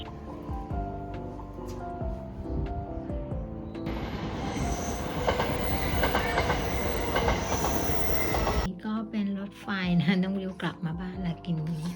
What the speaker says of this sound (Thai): เป็นรถไฟที่วิ่งด้วยดีเซล ไม่ได้ใช้ไฟฟ้านะคะ อยู่ที่จังหวัดอิบารากิเกน